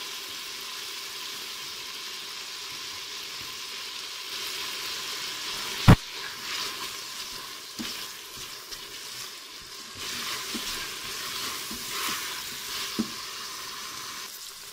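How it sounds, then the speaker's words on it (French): Onions sautéing in a Cookeo multicooker for beef with tomato, a steady soft sizzle with a few sharp clicks of stirring utensils against the pot, no talk. "on vient y mettre les oignons. On va les faire revenir pendant quelques minutes"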